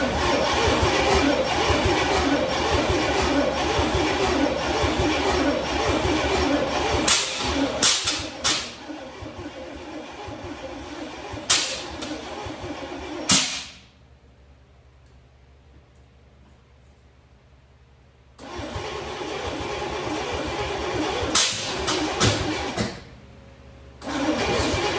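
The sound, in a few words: 1990 Chevrolet 454 SS rebuilt engine starting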